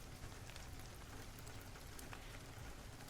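Steady, even rainfall patters on a surface, a constant close hiss of raindrops without pauses or voices.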